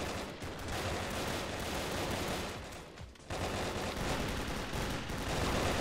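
Rapid gunfire in the blocky shooter Brick-Force, during a team deathmatch round with a hand pistol, forming a dense continuous barrage with one brief dip midway, loud and close, with no talking.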